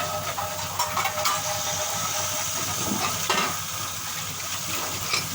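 Cauliflower, potato and carrot mixed vegetables frying in a kadhai, a steady close sizzle and hiss with occasional stirring scrapes, loud and continuous with no talking.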